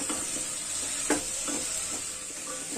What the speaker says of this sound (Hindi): इन मसालों में भी हम आलू को अच्छे से भूनेंगे